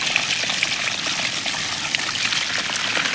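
Dark water gushing steadily out of a pipe, a close continuous splashing rush with a bright watery hiss and no talk.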